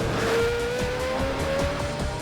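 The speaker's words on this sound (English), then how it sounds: "That'd be time to cue the souped-up supercar." A souped-up supercar driving fast, its engine a loud, continuous roar with a rising whine and rhythmic pulsing, close and sustained throughout with no talk.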